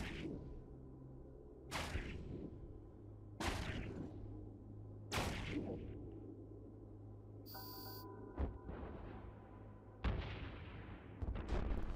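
In Eve Online, repeated weapon blasts and explosions sound as a series of sharp whip-like cracks with whooshing tails over a low engine hum, about six distinct hits spread evenly, plus a brief electronic beep tone.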